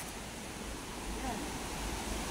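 Water pours down from a waterfall into a river in Taytay, Rizal, a continuous broadband rush of flowing water, fairly soft and steady, with no clear voices over it.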